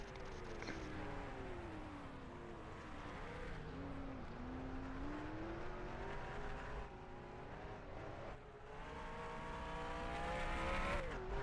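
Race cars in the Assetto Corsa sim racing game drone through the Phillip Island circuit, several engines layered together, rising and falling in pitch as they slow toward pit road. The engine noise stays loud and steady throughout.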